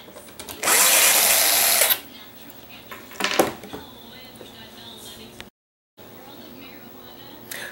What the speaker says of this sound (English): We're going to go ahead and take these four spring-loaded screws out of the DMD assembly.